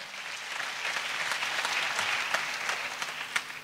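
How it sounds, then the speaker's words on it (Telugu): A church congregation applauds in praise of God, a steady wash of many hands clapping together, sustained and fairly full, with no one speaking over it. "చప్పట్లు కొడుతూ దేవునికి స్తోత్రాలు చెప్దాం."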